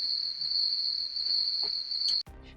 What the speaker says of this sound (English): And it'll be like crickets.